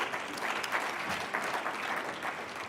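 Steady, moderately loud applause from the audience at the Women Economic Assembly for Minister Maite Nkwana Mashabane, sustained throughout.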